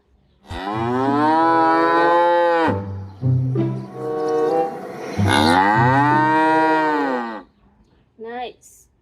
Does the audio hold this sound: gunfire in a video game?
no